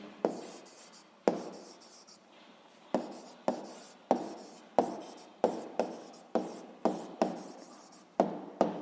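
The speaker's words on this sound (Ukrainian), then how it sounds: "записуємо відповідь. Пишемо відповідь." Pen writing an answer by hand on paper, close and faint: a run of short scratchy strokes, each starting with a small tap, in an uneven rhythm of about a dozen marks with no talk.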